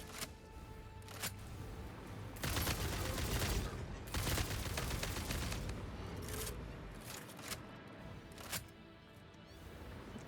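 A gun fires at a hostile creature in Satisfactory: repeated volleys of shots and thuds with short gaps between them. Several sharp single cracks stand out, all fairly quiet and with no talking.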